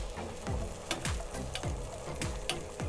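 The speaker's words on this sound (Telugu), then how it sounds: "చూసారా, వంకాయలు చక్కగా మగ్గుతున్నాయి" Stuffed brinjals (eggplant) cooking in a covered pan over a medium flame, a steady close sizzle with soft rhythmic scraping strokes repeating about every half second, no talk.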